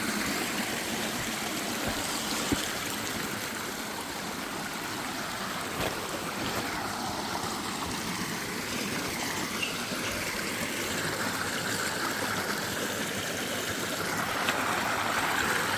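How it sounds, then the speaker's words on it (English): Water flows steadily in a stream through bushy terrain outdoors, a constant broad rushing wash with faint rustles and small knocks scattered through it, close and unbroken. "It always sounds like something's walking in the bushes, but it's just this water flowing."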